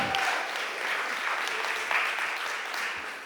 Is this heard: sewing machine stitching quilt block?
no